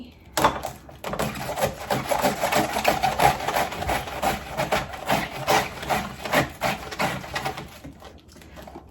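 A knife shreds a purple cabbage on a board, producing fast, close, rhythmic crunching cuts in a dense run of strokes with brief pauses and no voices.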